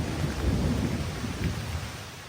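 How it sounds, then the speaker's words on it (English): Thunder rumbles low and heavy through a windy night storm at a campsite, rolling continuously under steady rain falling on surfaces, loud and sustained without any talking. "There's been quite a bit of lightning, and now I'm hearing thunder."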